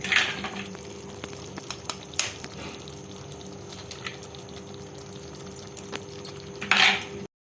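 Soft, steady sizzling of eggs cooking in a pappadam curry in a pan, with occasional louder crackles and stirring clinks, no voices.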